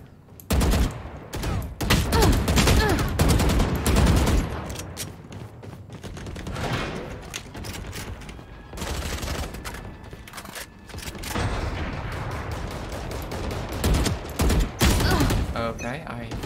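Gunfire in the video game Valorant, bursts of rapid shots and fusillades coming in waves across the stretch, loud and close, with a voice talking over parts of it.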